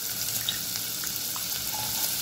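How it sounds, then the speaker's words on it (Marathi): Finely chopped onion frying in hot oil inside a pressure cooker on a gas stove, a steady close sizzle and crackle that runs unbroken without speech. "गुलाबीसर रंग येईपर्यंत कांदा परतून घ्यायचा आहे"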